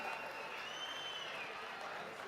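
A theatre audience at a Kannada film event claps for the team behind the film 45, a faint, continuous patter of applause mixed with crowd murmur, steady throughout.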